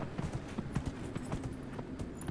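Horse hooves clip-clop at a steady trotting rhythm while riding in the fantasy video game Dragon Age Inquisition, close and clear with a faint background.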